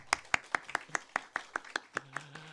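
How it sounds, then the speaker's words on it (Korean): Church congregation at a Sunday worship service claps, a sparse, evenly spaced run of about a dozen crisp claps, faint and fairly distant, with a brief low tone near the end. "박수 한번 할까요?"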